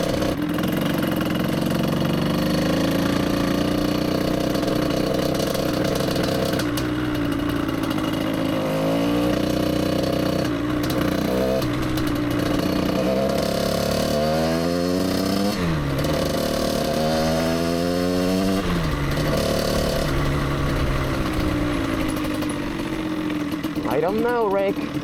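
A project motorcycle engine with an aftermarket ignition runs steadily close by, a continuous mid-pitched drone with several rising and falling revs, and a voice speaks over it.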